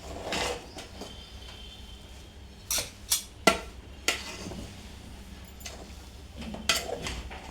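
Upma cooking in a pan with a little ghee, stirred by a metal spoon that scrapes and clinks against the pan in a few sharp, separate knocks over a low background hum, close by with no talking.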